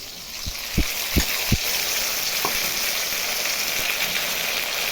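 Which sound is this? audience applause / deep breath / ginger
ginger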